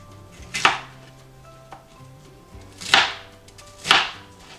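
A knife chops through food on a cutting board with three sharp, distinct strikes, close and clear, with a faint hum in the background.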